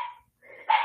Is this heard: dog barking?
yes